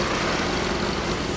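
Exhaust of a 1996 Suzuki GSX400 Impulse motorcycle fitted with a Mid Knight muffler, a loud, steady, close engine drone without any talk.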